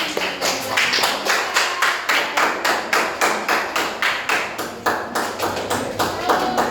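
Students clap together in a classroom, producing a rhythmic series of sharp, evenly spaced claps in unison, close and distinct, repeating steadily for several seconds with faint voices underneath.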